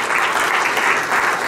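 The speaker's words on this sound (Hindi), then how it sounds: "सबके लिए एक बार जोरदार तालियां।" A large gathering at a Bhagwat Katha religious discourse bursts into dense, continuous applause, close and full throughout the short stretch.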